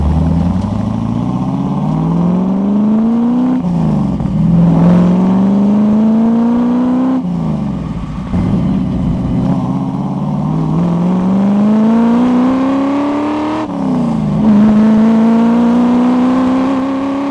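A 1968 Pontiac Firebird classic car accelerates hard through the gears, the engine note climbing steadily then dropping at each shift, loud and close throughout with no talk.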